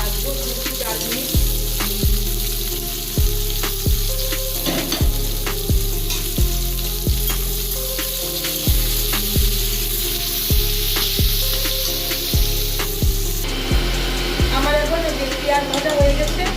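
Whole cumin and chopped onion frying in hot oil, a bright continuous sizzle with regular clanks and scrapes of stirring, recurring roughly every second throughout.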